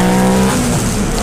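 A race car in the Nippon Challenge at Pembrey passes on the track, its engine holding a loud steady tone before dropping as it goes by, close and without talk.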